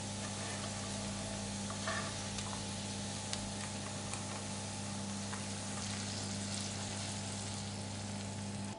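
Fried coconut, cashews and raisins go into ada pradhaman payasam, producing a soft, steady frying sizzle and stirring noise with occasional small ticks over a constant low hum.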